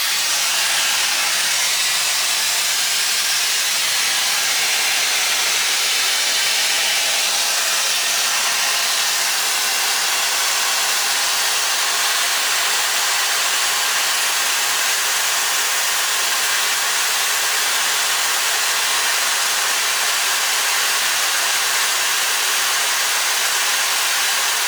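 Shark FlexStyle hair dryer blowing on hair: a steady, loud, close airflow roar with airy hiss that runs without a break for the whole stretch, no voices over it.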